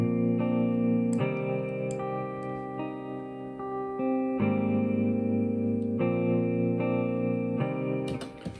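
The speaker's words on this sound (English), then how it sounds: "then some reverb." Sustained lofi synth chords shift every second or so, washed in heavy reverb with a long, spacious tail; music plays alone without voices.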